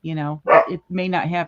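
A dog barks in short bursts close by, overlapping a person talking indoors.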